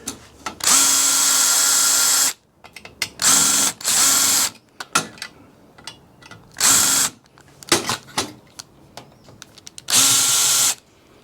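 A power screwdriver slowly backs flimsy screws out of a Cisco blade server during a teardown, running in several separate bursts of steady whirring, close and loud, with ratcheting clicks and handling noise in the pauses between.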